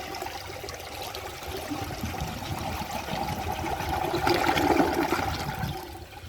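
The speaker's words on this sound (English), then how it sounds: "I'm just going to give it another flush with the rest of the water in the tank." A 2003 Mancesa Acuacer toilet flushes, a rushing gurgle of water that builds steadily, peaks loudly near the end, then begins to fade, close by and with no talking.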